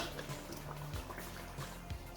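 Water being poured from a glass into a pot of beef kofta curry, a soft liquid trickle and splash at low level with faint bubbling underneath.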